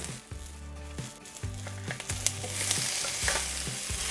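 Tomatoes hit a hot pot of tortilla soup base with softened onions and whole garlic cloves, setting off a steady sizzle that builds over a few seconds, with rhythmic stirring knocks from a utensil.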